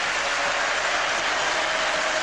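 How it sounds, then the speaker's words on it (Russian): Steady, dense applause from the stands of a UEFA Cup football match stadium as a Brazilian player leaves the pitch, a continuous crowd roar of clapping with no breaks, loud and enveloping. "Под аплодисменты трибун"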